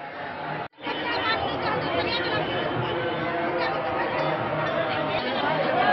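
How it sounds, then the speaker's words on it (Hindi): A vast crowd of devotees at a Mahashivratri gathering in Madhubani, a dense, constant babble of many voices with a brief cut near the start, loud and close. "भीड़ तो यहाँ तो लाखों की संख्या में लोग आते हैं"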